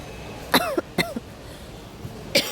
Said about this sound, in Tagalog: Inuubo-ubo pa.